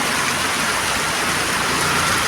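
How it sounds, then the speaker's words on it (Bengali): Heavy rain pours down in a dense, loud, unbroken hiss of water that stays constant from start to finish, with no voices. "এত বৃষ্টি হচ্ছে, এত বৃষ্টি হয়েছে"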